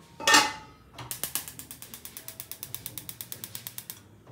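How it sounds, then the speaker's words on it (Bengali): A gas stove being switched on: one loud burst of a knob or gas hiss, then a rapid, steady run of sharp igniter clicks, close and clear with no talking. "এদিকে আমি গ্যাসটাকে অন করে দেবো।"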